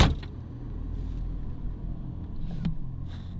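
A car drives along a snowy road, giving a steady, close low rumble of engine and tyres with a couple of brief knocks partway through.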